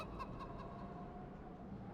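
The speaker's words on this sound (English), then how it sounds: "Oh, another chicken." A chicken clucks in Divinity: Original Sin 2 in the Blackpits, its short clucks sitting over a steady, fairly loud bed of game ambience.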